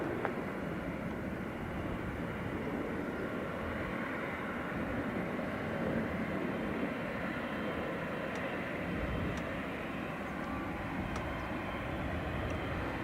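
A fixed-wing airliner landing on runway 28 left at Dublin Airport gives a steady, broad engine roar and rushing wind held at an even level for the whole stretch, distant rather than close, with no talk.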